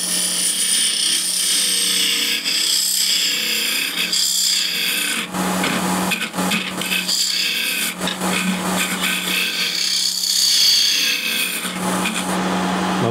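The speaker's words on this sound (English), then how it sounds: "so just need to finish scrape it." Steady rasping scrape of a tool across a wooden blank being finished, repeated rough strokes in a continuous rhythm, close and fairly loud with brief pauses between passes.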